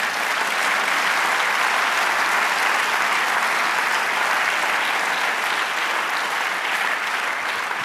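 Sustained, steady applause from a church congregation, dense and even throughout with no voices standing out.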